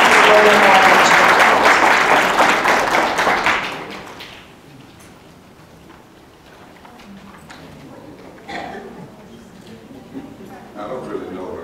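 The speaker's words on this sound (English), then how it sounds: "give a round of applause to our two guests today" Audience at a talk event applauding loudly for about four seconds, then fading to scattered claps and room noise with some brief talk.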